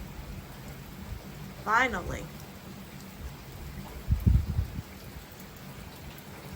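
Rain falls at night in the early hours, a soft, steady wash of drops that runs throughout at low level, with a brief spoken word and a few close handling bumps over it.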